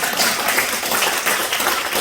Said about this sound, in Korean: 우리 청년 잘해서 박수 주시죠.